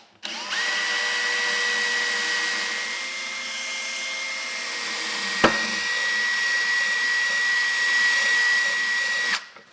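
A power drill with a pointed bit bores a hole through a wooden cabinet drawer for pull hardware, a steady high motor whine running near and loud for about nine seconds with a brief click midway, no talking.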